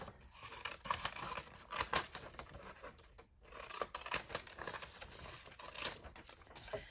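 Scissors snip and slide through a paper sketch being cut out by hand, close and fairly quiet, with repeated short cutting strokes and paper rustle, no talk.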